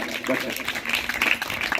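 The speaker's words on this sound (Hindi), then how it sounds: "जोरदार तालियां" Students at a school quiz competition give a burst of lively applause after a correct answer, dense and continuous, mixed with voices.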